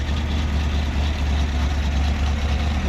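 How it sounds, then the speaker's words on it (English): Deep, steady idle of a Pontiac Ram Air 4 engine heard close to the exhaust, a continuous low rumble with a slight lope. "That's what a Ram Air 4 sounds like."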